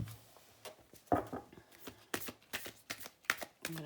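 Tarot cards being shuffled by hand in quiet, soft papery riffles and taps in short irregular bursts up close.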